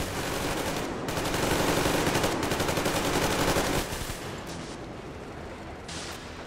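Sustained automatic gunfire in the post-apocalyptic shooter Metro Exodus, a dense rapid burst of shots lasting several seconds before tapering into quieter scattered fire and ambience.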